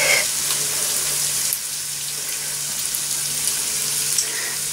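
Hot burrito filling spitting in a pan: steady close sizzling hiss with faint pops and crackles throughout, no talk over it.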